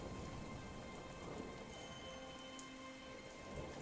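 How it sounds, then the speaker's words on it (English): Steady rain falls for the whole stretch, a dense, even hiss of drops with a faint low rumble beneath, constant and enveloping with no voices. "you start to hear rain falling, and you feel the wind kind of chilling your bones"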